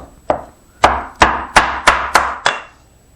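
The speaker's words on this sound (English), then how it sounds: "Splitting and whittling the pegs from straight grain stock is best" Wooden pegs split from straight grain stock with hand tools: seven sharp, loud chopping whacks in a fairly even rhythm, each ringing briefly before the next, with no talk.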